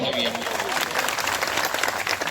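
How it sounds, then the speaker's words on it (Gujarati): A crowd of farmers at a rally applauding, with steady, dense clapping running throughout beneath someone speaking loudly over it. "એક ખેડૂત જોરદાર તાળીઓ છે."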